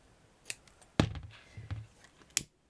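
Scissors snipping through purple organza fabric while making a French couture flower, a few quiet, close cuts with light clicks spaced across a short stretch.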